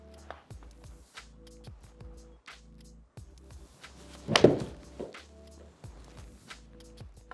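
A single sharp club strike on a ball in an indoor golf simulator, close and fairly loud, stands out midway against a quiet room with a faint, steady, rhythmic hum.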